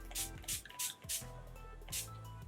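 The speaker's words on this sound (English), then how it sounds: "Now I'm going to spray a little bit of Fix Plus." Fix Plus setting spray mists onto a face in about five quick, close hissing pumps. The pumps are spaced irregularly, with soft handling noise between them and no speech.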